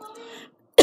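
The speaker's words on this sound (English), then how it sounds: "Oh my God, I'm gonna cough." A single sharp cough bursts out near the end, loud and close, after a stretch of soft background voice-like sound and a brief silence, in a Thomas and Friends cartoon episode.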